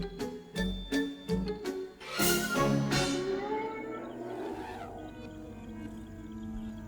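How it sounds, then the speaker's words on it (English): Lions and hyenas calling in the wild at night: sharp clicks and knocks, then rising and falling animal whoops and roars fading into a steady night ambience. "At nighttime, you hear hyenas and you hear lions."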